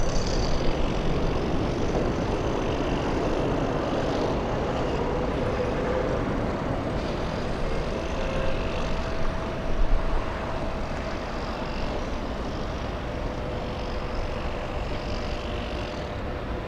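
Delta flight 39 airliner taxiing at Los Angeles airport, a steady broad roar of jet engine noise heard from a distance, holding constant throughout with a brief swell near the middle.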